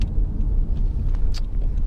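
A 300-horsepower rear-wheel-drive Honda Legend 3.5 i-VTEC V6 accelerating hard, a steady close engine rumble for a couple of seconds with no talk.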